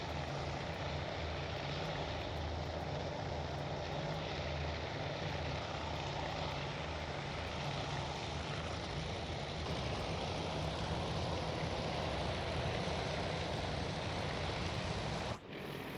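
Fighter planes in a carrier battle sim drone with a steady, dense propeller-engine roar that holds evenly for the whole stretch, close and continuous, broken only by a brief sharp crack near the end, with no talk.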